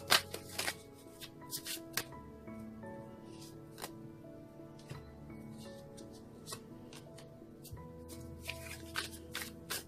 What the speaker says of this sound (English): One more shuffle, they say.